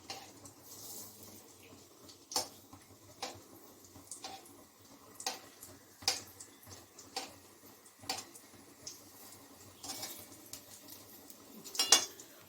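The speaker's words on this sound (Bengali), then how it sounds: "পটল ভাজাটা আবার একটু উল্টে দিই" A pan of fried pointed gourd slices being flipped in a home kitchen, with sharp metallic clicks and taps of the utensil against the pan at irregular intervals over a low, steady sizzle.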